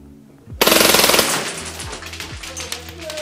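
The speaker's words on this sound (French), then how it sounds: "on va tester maintenant en full auto et voir ce que ça donne aussi à 15 mètres" Umarex HK416 T4E airsoft rifle firing full auto: a rapid, loud mechanical burst of evenly spaced shots lasting about a second, followed by rattling and clacking handling sounds nearby.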